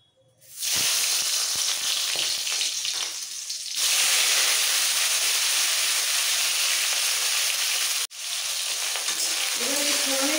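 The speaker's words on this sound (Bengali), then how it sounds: "এইবার এই ফোড়নের মধ্যে টমেটোগুলো কেটে নিয়েছি বড় বড় টুকরো, সেই সব টমেটোটা দিয়ে দিচ্ছি।" Large tomato pieces drop into hot tempered oil with fennel seeds, setting off a loud, dense sizzle that holds for several seconds, briefly cuts out, then resumes just as strongly.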